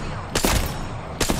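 Gunfire in a ranked online shooter game crackles in two short, loud bursts of rapid shots over a dense background of game noise.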